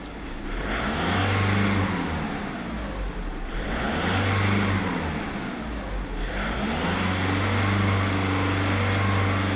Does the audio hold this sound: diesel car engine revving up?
yes